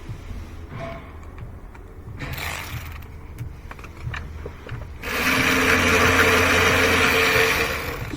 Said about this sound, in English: See if I can get in there with my electric ratchet